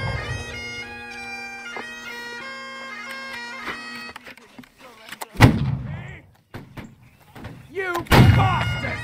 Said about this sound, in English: I don't understand why you guys are shooting if we didn't even get order to shoot